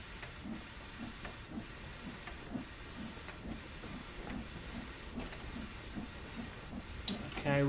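Quiet, steady hiss of steam venting from the cylinder cocks of a steam locomotive in Train Sim World 2, pulsing in a regular chuffing rhythm under a constant background wash.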